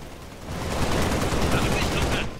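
Rapid automatic gunfire from the Halo Spartan Assault video game, a steady loud burst of shots building and holding for a couple of seconds.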